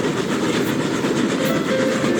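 A train accelerates along the tracks with a loud, close, steady rumble and a continuous rolling clatter of wheels, with no voices over it.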